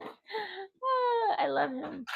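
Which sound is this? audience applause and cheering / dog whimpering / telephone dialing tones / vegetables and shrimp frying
dog whimpering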